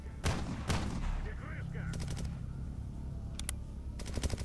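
Gunfire in the Red Forest of a STALKER video game: bursts of rapid automatic shots crack out repeatedly over a rumbling ambient background, with sharp clusters near the start, middle and end.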